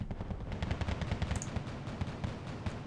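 Grenade launchers fire in rapid bursts in the Wargame: Red Dragon video game, a dense, continuous volley of repeated thumping shots with no talking.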